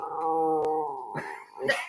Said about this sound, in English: You're barking at yourself.